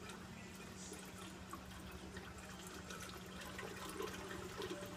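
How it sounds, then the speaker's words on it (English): Water draining through the siphon of a vortex aquaponics system, a faint gurgling trickle and bubbling over a low steady hum, quiet and continuous, gradually growing a little louder. "You can really hear the drain now."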